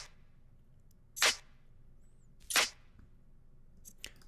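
Layered snare-style hits from an electronic production, claps stacked with Foley layers: two crisp, bright cracks about a second apart, then a pair of softer quick ticks near the end, no voices.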